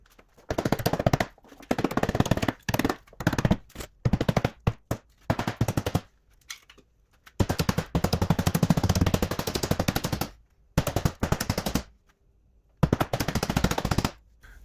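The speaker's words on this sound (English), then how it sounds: "So if I hammer all these edges over" Rapid bursts of hammering over metal panel edges during an Alfa Romeo 145 restoration, loud and close, in repeated runs separated by short pauses.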